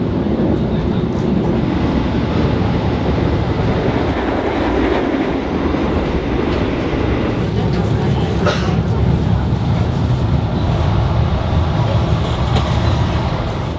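Continuous rumble and rattle of a moving panoramic passenger train in Indonesia from inside the carriage, steady and loud, with faint clatter throughout.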